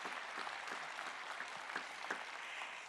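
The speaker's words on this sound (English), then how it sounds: "Yes, you can applaud for each other." Members of a gathered community audience applaud one another, a steady patter of many hands clapping at moderate distance, fairly soft and continuous for a few seconds with no talk over it.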